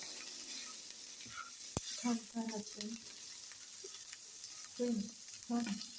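Shrimp and fried rice colored yellow with turmeric sizzling in a pan, a steady hiss of frying with clattering stirring scrapes and taps, a sharp click partway through, heard close and fairly quiet.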